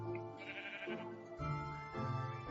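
Common white sheep in the Minecraft-based game Hungry World, two drawn-out wavering bleats, one after another, faint and fairly close, with no talk over them.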